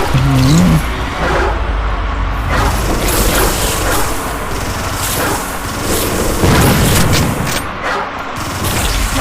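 Chaotic Zombie Frontier 4 combat with booming grenade blasts and rapid gunfire layered over a constant dense din, with brief voice fragments.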